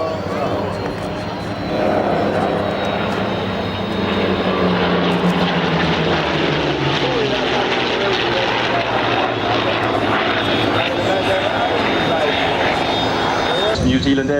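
A propeller fighter aircraft, with a New Zealand Air Force Corsair in the formation, flies past at the Biggin Hill Air Fair in 1999. A steady loud engine drone with a shifting pitch continues throughout, and there is no speech.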